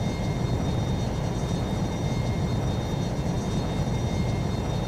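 Jet fighter afterburner roar in the F22 Total Air War flight game, a steady, deep, rumbling engine drone with a thin high whine, continuous and unchanging throughout.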